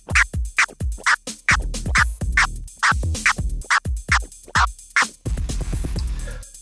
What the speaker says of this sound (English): So a chirp altogether sounds like this.